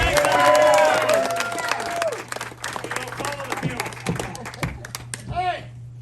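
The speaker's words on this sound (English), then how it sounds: "Big round of applause, Marshall Baker" Spectators at a Tombstone, Arizona gunfight show clap, whistle and cheer for performer Marshall Baker, a loud opening burst that thins into scattered claps while people talk.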